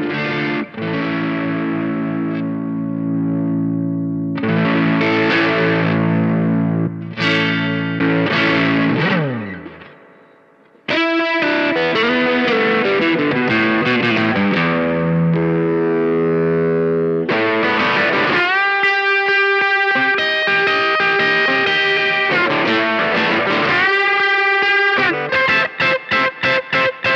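Electric guitar through a Boss DS-1 distortion pedal, sustained crunchy chords and riffs, loud and saturated, with one brief drop in level before playing resumes, no talk.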